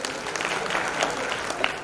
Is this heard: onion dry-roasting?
no